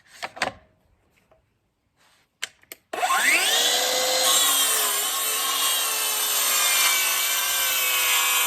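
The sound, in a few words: sawing wood, bevel cut for radiator cover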